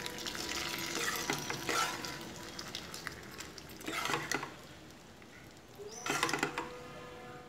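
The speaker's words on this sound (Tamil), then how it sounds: "தாளிச்சது இதில் ஊற்றிக்கலாம்." Hot tempering poured over mashed spinach (keerai masiyal) hisses and sizzles in several bursts, with stirring and scraping of the pan between them, close and fairly loud with no talk.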